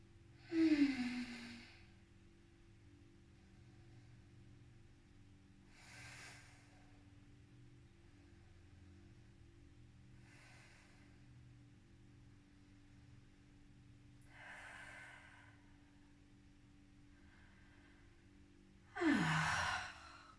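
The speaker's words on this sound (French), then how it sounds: "Et on prend 7 bonnes respirations comme ça." Deep breathing in a yoga pose, with a few slow, spaced exhalations and sighs. Two stronger breaths come at the start and end, the softer ones between them are quiet and close, and no one speaks.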